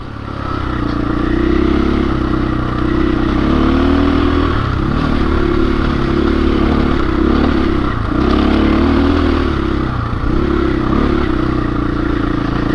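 A 2021 KTM 500 EXC-F dirt bike climbs a hillside at an off-road riding park. Its engine drones loudly and continuously, with rising and falling revs and some clatter from the terrain.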